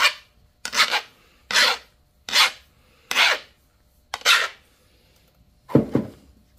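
A flintknapping tool is sharpened by filing, seven separate rasping strokes of about half a second each, evenly spaced with quiet gaps between them, close and crisp with no talking.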